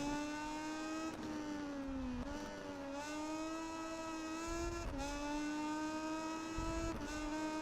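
A motorcycle engine screams at high revs during a MotoGP 19 career race at Qatar, a steady whine that rises and drops sharply at each gear shift, loud and continuous with no talk.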